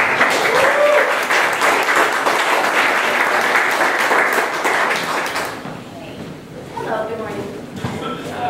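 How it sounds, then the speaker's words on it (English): An audience gives a warm round of applause for a presenter at a morning pitch event, dense clapping that stops short and gives way to someone speaking. "please give her a warm round of applause"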